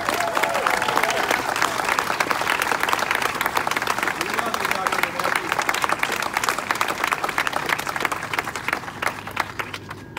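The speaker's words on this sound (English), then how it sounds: "I want all of you to give yourself a big round of applause for being here tonight" A large audience at a fundraiser event gives a loud, dense round of applause that runs without a break, with crowd murmur and voices mixed in beneath the clapping.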